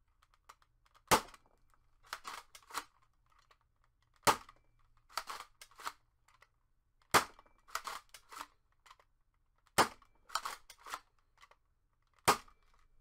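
Five sharp air-gun shots fired one at a time through a chronograph from a Worker Nexus Pro kit blaster, evenly spaced several seconds apart, each crisp crack trailed by brief mechanical clatter, close and with no talk.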